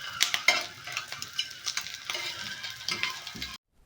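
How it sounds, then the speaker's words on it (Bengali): Eggs fry in a pan for street-style egg chaat and are flipped over, with a soft sizzle under sharp clinks and scrapes of a utensil against the pan, close and moderately loud, ending abruptly. "ডিমগুলো ফ্রাই করার সময় একটু উল্টে পাল্টে দিতে হবে"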